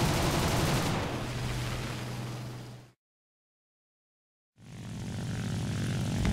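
Messerschmitt Bf 109 fighter in the War Thunder video game, a loud continuous propeller engine roar with gunfire during a head-on pass, cut by a few seconds of complete silence before the engine noise returns.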